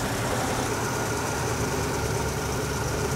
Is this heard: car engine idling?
yes